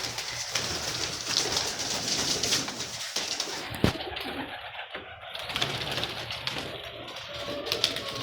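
Pigeons in a loft coo in soft, repeated low bursts, close by, over a steady hiss of ambient noise.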